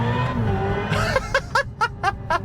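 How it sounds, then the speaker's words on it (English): A Hyundai Ioniq 5 N electric hot hatch playing its synthetic engine sound, a rising whine followed by a rapid series of five or six sharp simulated gearshift barks, close and loud. "this is supposed to sound like the future of electric vehicle sounds."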